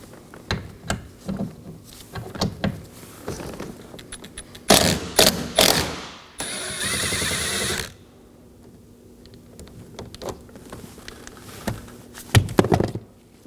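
The last mirror bolt comes off a 2018–2024 Chevrolet Equinox with a burst of ratchet clicks and a steady whirring tool run, close and loud, amid scattered handling knocks and no talk.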